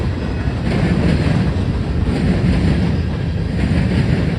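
A freight train of tall Coke Express cars rolls past close by, a loud steady rumble with faint rhythmic clatter from the wheels and some wind buffeting, no voices.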